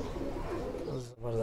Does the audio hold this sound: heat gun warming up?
no